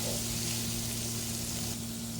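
Boiled chicken gizzards with onion and garlic sizzle steadily in a pan while being stirred, a soft constant frying hiss with faint scraping.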